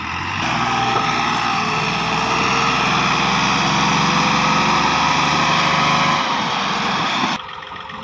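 A tractor engine labours loudly and continuously while trying to pull a trolley loaded to 17 feet up a slope. The steady high drone holds for about seven seconds, then drops off sharply.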